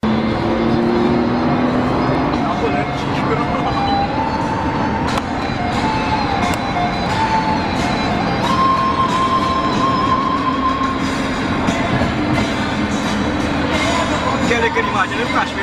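Ride in a Nissan GT-R R35 sports car: a steady, loud cabin roar of engine and road noise that holds for the whole stretch, with rising and falling engine tones sweeping through.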